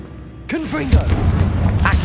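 Confringo explosive spell going off in Hogwarts Legacy inside a cave, a sudden booming blast with crackling debris that fills the short space, partly overlapping a voice.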